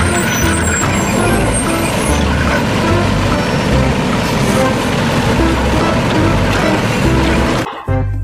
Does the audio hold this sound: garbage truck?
yes